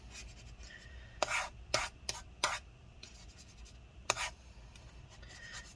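Rubbing alcohol being rubbed over leftover battery adhesive inside a 13-inch early-2015 MacBook Pro A1502, heard as a handful of short, close scrubbing strokes in bursts over a quiet background.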